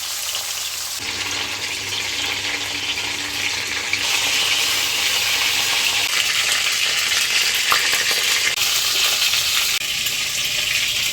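Eggplant pieces sizzle loudly in hot oil with black cumin seeds, a steady broadband frying hiss that runs throughout, turning briefly sharper and denser after a few seconds as more goes into the pan, with no talking.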